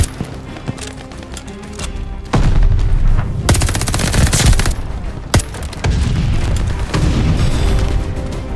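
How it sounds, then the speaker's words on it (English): Grenade explosion and rapid gunfire in a Call of Duty Vanguard team deathmatch match, with heavy booming blasts and dense bursts of automatic shots, loud and close, with no talk. "Throwing grenade."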